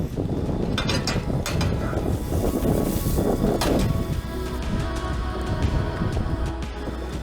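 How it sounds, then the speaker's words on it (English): Strong wind on Dirk Hartog Island, Western Australia, buffets the microphone in a constant loud roar, with gusty rustling swells throughout and no clear talk. "It's very, very windy"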